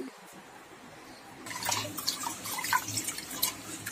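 Water splashes and trickles over foxtail millet in a bowl, a steady wet pouring and swishing close by, starting after a brief quiet moment.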